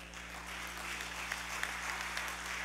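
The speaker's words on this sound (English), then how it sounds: "A round of applause for him once again" Applause at a 70th birthday and retirement program for a professor, a faint, steady wash of clapping heard alone over a low constant hum.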